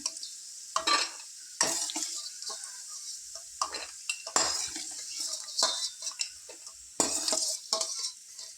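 Vermicelli fries in a pan until golden brown, with bursts of stirring and a spoon scraping the metal over a low sizzle, heard close and in repeated strokes without talk.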